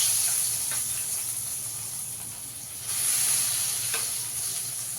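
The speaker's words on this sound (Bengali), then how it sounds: "এবার মাছগুলোকে ভেজে নেব" Rui fish sizzles in hot oil in a pan, a steady bright hiss that swells and eases slightly, with a few faint clinks and no talking.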